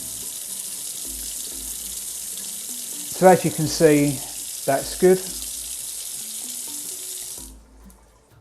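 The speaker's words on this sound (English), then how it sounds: "I'm going to activate the mains hot and cold side of the tap" Water runs steadily from the mains hot and cold side of a QETTLE tap spout, a continuous hiss and splash into the sink, with someone briefly speaking over it before the flow shuts off near the end.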